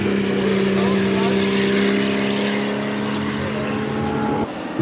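Classic race cars lapping the Spa Classic circuit at Spa-Francorchamps in the rain, a steady loud engine drone with sustained tonal hum throughout, heard from trackside with a crowd murmur underneath.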